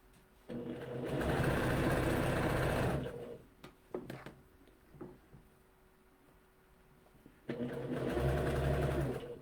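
Sewing machine stitching a shirt, two loud sustained runs of motor hum and needle clatter separated by quieter handling clicks and shuffles, all close with no talk.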